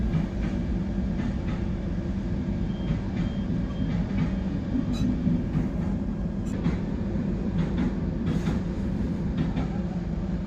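An AC first class coupe on a night train near Mumbai, with a loud, steady rumbling roar of the carriage in motion, faint rhythmic wheel clicks and occasional brief metallic squeals, no voices.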